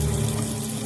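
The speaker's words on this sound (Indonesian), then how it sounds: "ia mendengar suara keran" Water running steadily from a washbasin tap in an office restroom, a continuous rushing flow heard up close with no voices.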